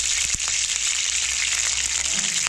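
Mustard oil heats in a pan for a winter moong dal with vegetables, giving a loud, steady, close sizzle with a couple of faint clicks near the start.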